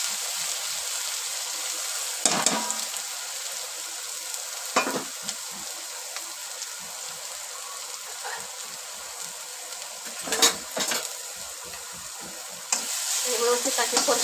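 Spices and ground green masala sizzle steadily in a hot pan for an aloo paratha filling, with a constant frying hiss broken by a few louder stirring scrapes and bursts.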